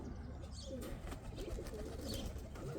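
Pet cock pigeons cooing at close range, soft rolling coos repeating over a faint background hum.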